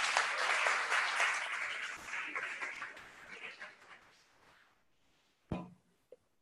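An audience at a women's organization gathering claps in a burst of applause that gradually fades away, followed by a couple of isolated knocks.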